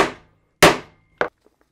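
A hammer strikes a metal canvas snap three times, two loud sharp blows followed by a lighter third hit and a few faint taps, each ringing briefly then dying away.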